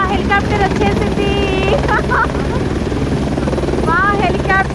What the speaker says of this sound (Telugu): మా హెలికాప్టర్ వచ్చేసింది.